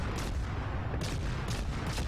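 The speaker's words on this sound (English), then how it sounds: "So I'm just going to stick with the high explosive and burn him down." Naval gunfire from a warship firing high explosive shells in World of Warships: a constant low rumble with repeated muffled booms roughly every half second to second, steady and dense with no talk.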